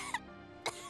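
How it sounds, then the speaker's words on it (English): A female character in Genshin Impact coughs twice in two short, faint bursts about half a second apart over a quiet tonal game background. "Why is she coughing?"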